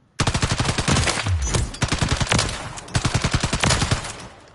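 Automatic gunfire in Call of Duty MW3, played on PS5: loud, rapid bursts of machine-gun shots in three long strings, with short gaps between them.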